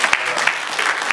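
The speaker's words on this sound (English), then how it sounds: "round of applause for Dan." An audience at a film festival Q&A applauds a crew member, a dense, steady patter of many hands with a few sharper nearby claps, sustained throughout without speech.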